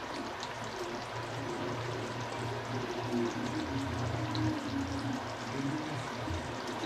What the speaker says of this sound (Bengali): আর একটু ঘি দিয়ে দেবো।